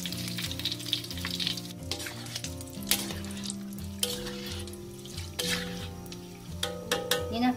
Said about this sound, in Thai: ไส้ของเราก็ใช้ได้แล้วนะคะร้อนขึ้นเลยค่ะ ไส้กระเทียมทอดกรอบนะคะนี่ค่ะ